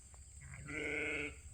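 Sheep bleat on a farm during autumn sheep training, a single drawn-out, fairly close call rising over faint low background rumble.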